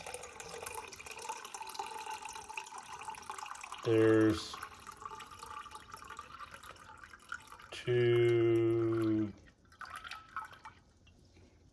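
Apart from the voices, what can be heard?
water poured into bowl on kitchen scale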